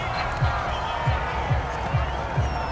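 Stadium crowd roaring in Madden 22 during a Panthers vs Dolphins football game, a broad, steady cheer with rhythmic low thumps pulsing underneath.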